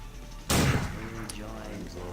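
One heavy shotgun blast sounds in System Shock 2, sudden and loud, fired by a shotgun hybrid enemy. It leaves a rumbling decay, and a voice is heard over the tail.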